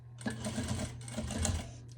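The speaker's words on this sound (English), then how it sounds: "I put my fingers on the sides, okay, so I can be able to protect my fingers as I sew." An industrial sewing machine without a walking foot stitches a quilted iPad holder, making a steady, close whirring drone that runs for nearly two seconds and then stops.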